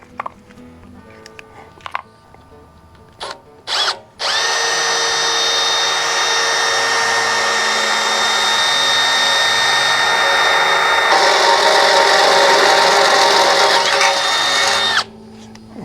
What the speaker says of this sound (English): where we need to drill.